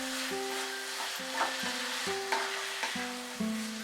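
Potatoes and peas being stir-fried with spices over a high flame for aloo matar, a steady close sizzle broken by a few scraping stirs, with a soft tonal hum running underneath.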